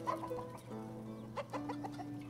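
Chickens cluck in the village-building video game Ostriv, a quiet run of overlapping clucks and short calls, with no talking.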